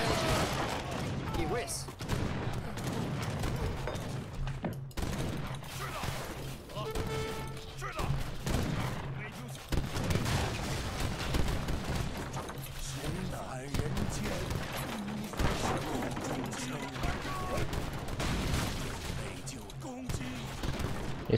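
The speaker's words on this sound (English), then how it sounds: "his cannon did a little damage to me as well" A battle between Chinese and Ottoman armies in Age of Empires 3 Definitive Edition, with repeated cannon booms and crackling volleys of musket fire going on continuously for about twenty seconds. Someone talks over much of the fighting.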